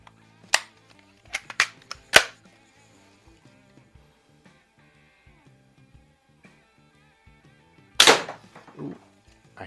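A 1986 Daisy model 840 single-stroke pneumatic BB gun fires at targets with sharp, close snapping cracks, several within the first couple of seconds and another later, each followed by faint ticks and rattles.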